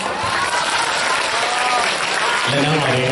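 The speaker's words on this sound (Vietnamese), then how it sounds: "Một tràng pháo tay cho người thắng cuộc" Applause and crowd noise fill a school hall during a career-guidance event at Tam Quan lower secondary school, a steady wash of clapping that swells slightly near the end, with voices mixed in.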